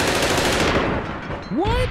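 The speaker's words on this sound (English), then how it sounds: "But I am that close with an LMG. It should not be jumping all over the place. The bullets, that is." Light machine gun fire in the online shooter APB Reloaded, a dense, loud burst of rapid shots filling most of the moment before it cuts off, with a short rising tone sweeping up at the end.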